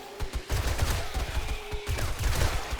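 Rapid gunfire at zombies in 7 Days to Die with the Rebirth mod, dense overlapping shots and thuds in a continuous loud barrage close by.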